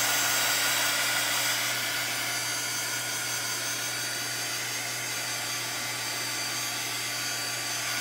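A heat drying tool blows over wet Tim Holtz mica stains as a steady, close, unbroken whooshing hum that holds at an even level throughout.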